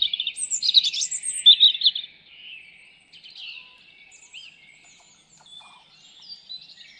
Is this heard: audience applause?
no